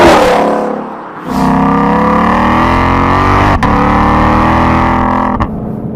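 A Ford Mustang Shelby GT500 engine revs up loud and close, a sustained rising roar with a short dip, then climbs again in a second long pull.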